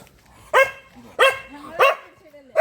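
A dog barks four times at a steady pace, sharp and close, with soft whining sounds in between.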